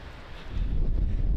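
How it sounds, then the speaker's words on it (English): Strong gusty wind on the Epinettete Creek hiking trail, loud low buffeting roar against the microphone that builds and stays heavy, no talking. "unrelenting wind this weekend. Crazy, crazy winds."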